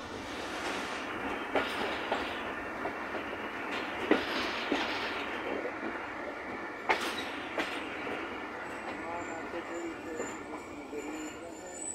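Ghouri Express passenger train running along the rails between Faisalabad and Lahore, heard from onboard as a steady broadband rumble with recurring clickety-clack wheel beats and occasional sharp knocks, continuous and fairly loud throughout.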